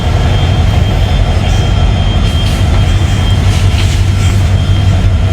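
A ride train at Soul Park in Tangail rumbles loudly and steadily from close by, with a constant low roar of running wheels and faint squeals over it.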